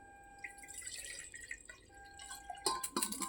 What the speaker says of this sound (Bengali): তো এবার জলটাকে আমি ইটাতে ঢেলে দিই।